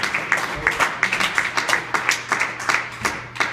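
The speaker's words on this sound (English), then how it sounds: "please give a big round of applause for Ism from Waukegan." An audience at a standup comedy show claps steadily and loudly, a dense, sustained round of applause with no talking over it.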